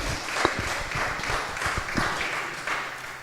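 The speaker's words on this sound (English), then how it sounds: "So another round of applause for Patricia." Audience applause at the Ferness Foundation Award 2025 ceremony, a steady wash of many hands clapping in a room, with a few louder individual claps standing out. No one speaks over it.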